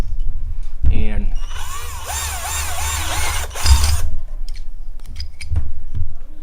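A power drill with a 1/4 inch bit whines in a rising and falling burst while drilling a hole during a Railblaza StarPort HD mount installation, with brief handling clunks before and after.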